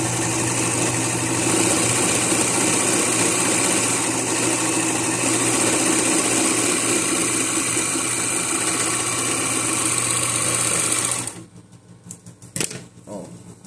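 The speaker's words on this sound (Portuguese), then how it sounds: "eu vou fazer um overlock aqui, né?" Domestic sewing machine running steadily for about eleven seconds as it stitches a narrow zigzag seam along cloth edge as a substitute for overlock, finishing a head wrap; the motor hum then stops abruptly, leaving faint handling noises.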